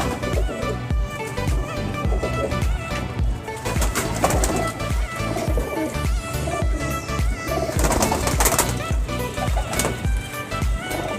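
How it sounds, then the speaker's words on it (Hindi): Teddy pigeons coo amid a busy, dense mix of sound, with steady rhythmic thumps and continuous clatter filling the space around the birds. "वसीम भाई, ये टैडी कबूतर है, ये देख, ये टैडी कबूतर देख।"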